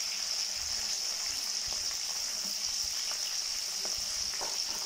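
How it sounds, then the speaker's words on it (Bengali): Chopped onion and green chili frying in hot oil, a loud, even, steady sizzle with light crackles and occasional stirring taps. "তেলটা গরম হয়ে গেছে, এখন দিয়ে দিচ্ছে কাঁচা পেঁয়াজ কুচি এবং কাঁচা মরিচ"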